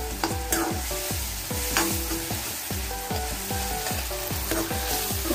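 Masala for a tamarind-free fish curry sizzles in a pan while a spoon stirs and crushes it in a steady, repeated scraping rhythm, close and continuous with no voices.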